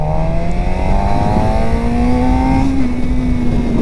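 A 2023 Suzuki GSX-R600 sport bike accelerates hard in first gear, its engine note climbing steadily in a loud, continuous rising whine close to the rider.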